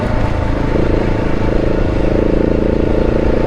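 Husqvarna motorcycle engine, a loud close steady throbbing rumble with rough clattery texture that holds throughout without fading, and no talk over it.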